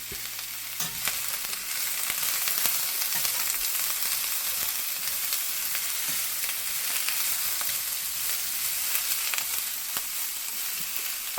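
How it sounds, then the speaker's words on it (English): Cheesesteak filling of sliced meat and vegetables sizzles steadily in a Lodge cast iron pan, a dense continuous frying hiss with faint crackles and occasional soft stirring taps, close and without speech. "So we will just let these sit here and sizzle for a little bit."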